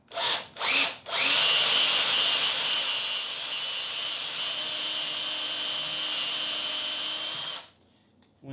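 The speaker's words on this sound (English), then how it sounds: "And start drilling." A power drill bores a hole for a saddlebag bracket on an Indian Scout Sixty motorcycle. It gives two short bursts, then a steady, loud, whining run of about six seconds before it stops abruptly.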